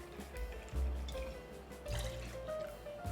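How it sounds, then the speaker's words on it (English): Blended Scotch whisky poured into a mixing glass for a Rob Roy, a quiet, gently wavering trickle of liquid lasting a few seconds, with no voices. "2 ounces of our blended Scotch."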